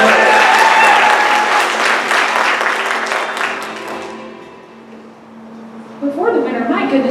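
Audience applause at an award ceremony, a dense wash of clapping that fades toward the middle and swells again near the end, with voices over it.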